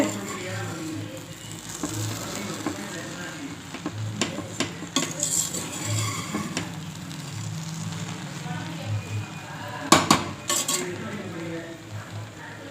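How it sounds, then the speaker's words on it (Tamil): A spoon scrapes and clinks against a pot while tomato rice is mixed, with a soft sizzle underneath and a few sharper metallic knocks near the end. "சேர்த்துட்டு நல்லா கலந்து விடணும்"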